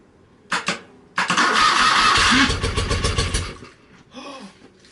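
A 1978 BMW R80/7 ex-police motorcycle starts without choke on a cheap new starter switch: a short crank, a pause, then the engine catches and runs loudly for a few seconds before dying away.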